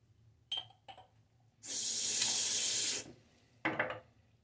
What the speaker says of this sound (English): so I'm going to get this brush in water.